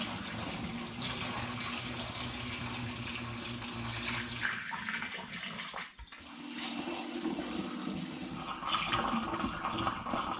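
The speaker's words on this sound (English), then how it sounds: "all I'm going to do this time is simply pour it in through the funnels now" Mixed berry red wine pours through funnels into an assortment of reused bottles, a steady close gurgling stream of liquid filling glass, briefly interrupted before continuing with a rising fill tone.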